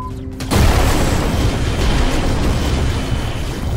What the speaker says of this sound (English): Loving the explosions.